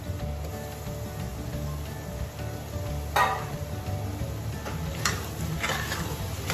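Diced potato and vegetables sautéing in a pan for veg paya, a steady close sizzle with a few sharper scrapes of stirring.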